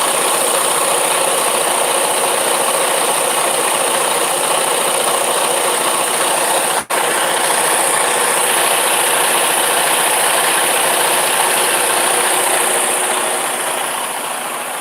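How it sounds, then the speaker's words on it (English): A truck engine idles with a steady low rumble and mechanical hum, broken by one brief click midway, then fading slightly toward the end. "I'm gonna turn the truck on so you can hear."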